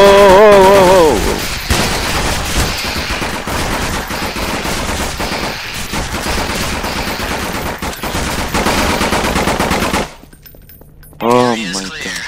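Rapid bursts of gunfire ring out in the horror video game Nightmare House 2, loud and dense, with someone talking excitedly over the shooting before a brief quiet gap near the end.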